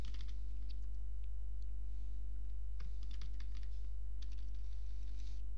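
Light, scattered clicks of typing on a computer keyboard come in small irregular clusters, faint beneath a loud, constant low electrical hum.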